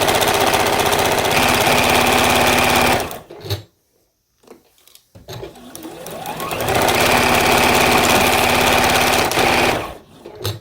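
A sewing machine stitches quilt pieces cut from vintage linen pillowcases, running loudly in two bursts separated by a quiet pause, with a short third burst at the end.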